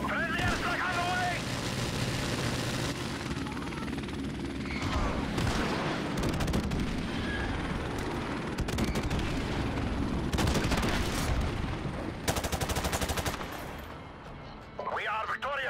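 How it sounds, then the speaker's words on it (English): Friendly airstrike explosions and gunfire in Call of Duty Modern Warfare Remastered multiplayer, a dense run of loud booms and crackling shots that continues without a break, with radio voice callouts over the top. "Friendly airstrike on the way!"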